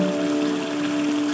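Water runs steadily through a backyard pondless waterfall and stream sized for a suburban yard, giving a continuous close splashing rush with a faint steady hum underneath.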